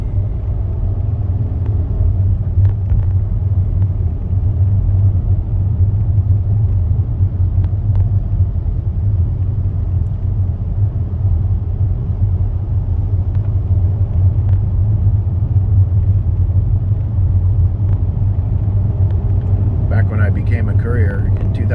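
A car drives through Seattle under a constant low, heavy road rumble that stays steady throughout, while a person talks over it.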